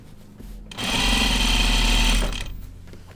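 A sewing machine runs fast and loud on dark shirt fabric for about a second and a half, a steady close mechanical whir with a deep hum under it that rises and then winds down.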